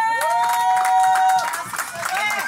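A church congregation acclaiming and cheering during a Sunday service, with sustained voices, shouts and clapping rising together loudly for a few seconds.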